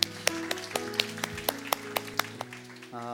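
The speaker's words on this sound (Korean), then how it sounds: "우리 하나님께 감사의 박수를 드리겠습니다" Congregation applauding in a church during a Sunday worship service, about a dozen sharp, regular claps in steady rhythm over a sustained organ or keyboard chord, moderately close.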